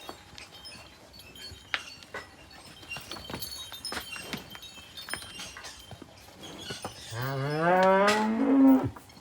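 A pregnant heifer in a village barn in Tarn Taran, Punjab, lets out one loud, close moo near the end, after quiet scattered clinks and shuffling.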